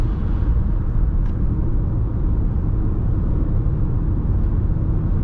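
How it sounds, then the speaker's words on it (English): Lexus RX350L V6 engine on a test drive, heard from inside the cabin as a steady, even low rumble with road noise that holds level throughout and no distinct revving. "this V6 is very nice in this Lexus"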